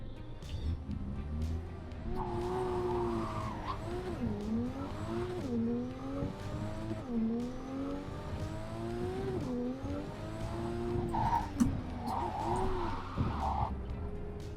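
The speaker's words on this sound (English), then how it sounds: "Also, the sound of the car is amazing." A car engine in the video game Cyberpunk 2077 revs up and down through repeated gear shifts, with tires squealing at intervals, loud and close throughout.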